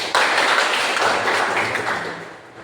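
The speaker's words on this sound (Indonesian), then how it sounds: "Tepuk tangan dulu" A classroom of students claps hands together, a brief burst of quick overlapping claps that starts abruptly and fades over a couple of seconds, with no talking.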